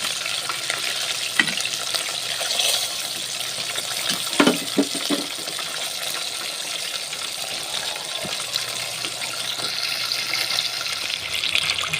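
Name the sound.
chicken frying in oil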